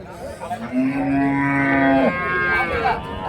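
A dairy cow with a young calf lets out one long, loud, drawn-out moo at a cattle market in Karimangalam, Dharmapuri district, with crowd murmur in the background.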